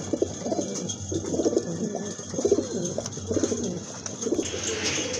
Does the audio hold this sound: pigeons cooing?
yes